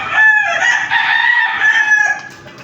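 A backyard-bred fighting rooster crows one long, loud call up close, with clear harmonic tone, trailing off near the end.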